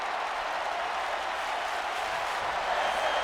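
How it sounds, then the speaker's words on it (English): Crowd noise fills a wrestling arena in WWE 2K19 during a match set in Detroit, a dense, steady roar of applause and cheering with no breaks. "Crowd enjoying this match here in Detroit"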